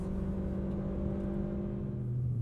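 A race car runs at full throttle down a straight, a steady droning engine tone with strong low harmonics held at constant high revs, heard from on board.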